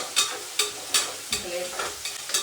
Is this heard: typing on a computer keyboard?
no